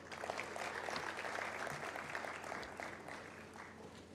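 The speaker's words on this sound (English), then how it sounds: "Another round of applause for Jemima, who has represented well her president." Audience applause at a Uganda AIDS Commission youth event, steady clapping from a seated crowd that holds for several seconds and then eases off slightly, moderately distant.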